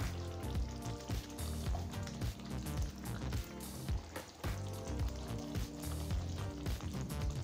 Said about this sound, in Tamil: இது ஒரு 2 நிமிஷம் வரைக்கும் வதக்கிக்கலாங்க